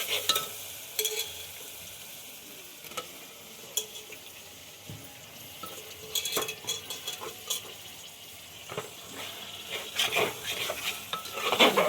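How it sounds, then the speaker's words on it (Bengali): Mutton being stirred through masala in a hot pan, a steady sizzle of frying with intermittent scraping clatter from the spoon against the pot, loud and close with no talking. "মশলাটা নেড়ে দেবো মাংসটা।"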